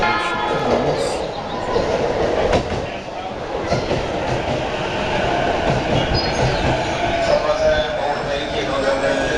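A train rumbles into a Yokohama station platform, a steady loud roll of wheels on rails with faint squeals, heard close from the platform edge.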